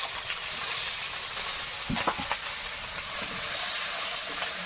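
Bay leaf, chopped garlic, ginger, onion and green chili hit hot oil in a kadai, giving a continuous hissing sizzle with a few sharp pops and spits midway, close and fairly loud.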